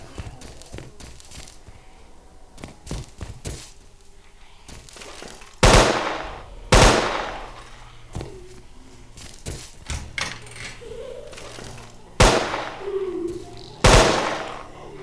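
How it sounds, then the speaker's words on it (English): Gunfire in the video game Dead Earth, with bursts of sharp, loud shots at irregular intervals, several heavy booming blasts standing out over quieter rapid rattling and clicks. "Good shooting, Gary."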